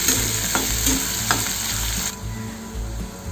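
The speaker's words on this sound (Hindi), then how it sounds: "अभी प्याज को थोड़ा सा ब्राउन कर लेंगे पहले" Onions browning in a pan for a lobia (chawli) masala curry, with a steady close sizzle and occasional stirring scrapes, continuous throughout and quieter in the last second.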